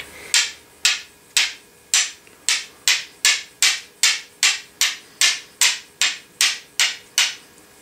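A flint is struck again and again to throw sparks, about seventeen sharp, loud, close strikes at a steady rhythm of roughly two per second.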